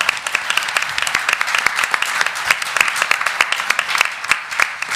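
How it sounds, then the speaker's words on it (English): An audience at an advertising industry event applauds steadily, many hands clapping in a dense, sustained patter with no voices over it. "a round of applause for our journalists"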